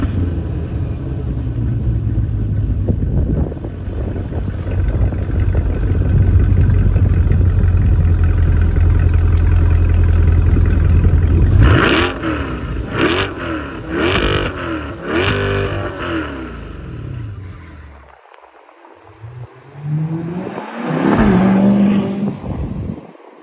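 A 2022 Chevrolet Corvette 1LT with the Z51 package and square exhaust tips idles with a deep, steady burble, then snaps through several sharp throttle blips, roars up in loud revs, drops briefly and rises again, heard close and alone.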